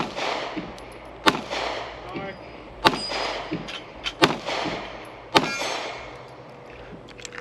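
Compact handgun shots fired at steel plate targets during a shooting match, a handful of sharp, loud cracks spaced irregularly over a low background rumble.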